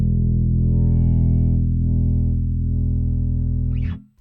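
Alembic fretless eight-string bass holds a steady low tone while an EQ filter sweep slowly shifts its upper harmonics, loud and sustained for about four seconds before it cuts off abruptly.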